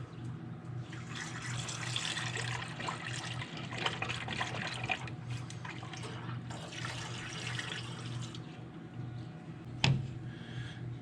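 Coolant pours into the radiator of a Bumpside Ford F100 in a steady, fairly quiet liquid stream, with a single sharp clink near the end.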